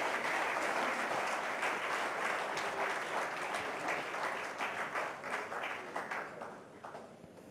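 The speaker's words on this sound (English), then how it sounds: "Can you please have a round of applause for the Comptroller and Auditor General?" A conference audience at the India Today Conclave gives a round of applause for the Comptroller and Auditor General, loud dense clapping that thins and fades toward the end.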